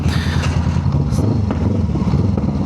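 Loud motorcycle exhaust rumbling close up, a throbbing low drone with slight rev fluctuations, no talking.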